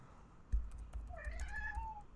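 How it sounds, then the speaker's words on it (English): A house cat meows in the background during a podcast recording, a short rising-and-falling cry that repeats a few times in quick succession over a low hum, fairly faint and with no speech. "Oh, no, you can hear my cat."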